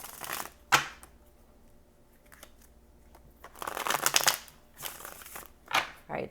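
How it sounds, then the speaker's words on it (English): Tarot cards being riffled and shuffled in several quick bursts, crisp and close, with brief pauses and light tapping between them. "We'll do a couple more shuffles here"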